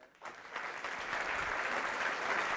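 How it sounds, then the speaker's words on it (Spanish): An audience bursts into applause for someone speaker at a talk at a hotel school, a dense steady clapping that swells quickly and holds, with no voices over it. "muchas gracias por los aplausos para la magíster doctora Olga Liliana Motisi"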